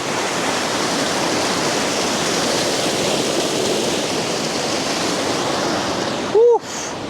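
Loud, steady roar of rushing, splashing glacier water fills the whole stretch, close by, with a brief voice cutting in near the end.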